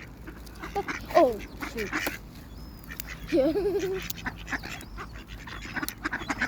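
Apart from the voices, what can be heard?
ducks quacking while being fed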